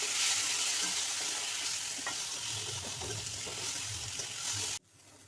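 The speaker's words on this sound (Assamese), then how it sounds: "দালিখিনি ভালদৰে ভাজিব লাগিব।" Cinnamon frying in hot oil for a fish head curry, a steady loud sizzle with scraping stirring strokes, close by, then the sound cuts off abruptly near the end.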